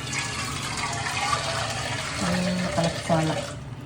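Hot water is poured into a pan while making pathiri, a close, rushing splash of liquid that fills the pan over a few seconds and then tapers off, with faint voices in the background.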